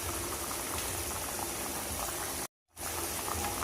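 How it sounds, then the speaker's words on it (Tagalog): Pork nilaga broth with saba banana bubbles at a rolling boil in a pot, a steady close hiss of bubbling broken by a sudden brief gap before resuming. "Yan mga idol, kumulo na."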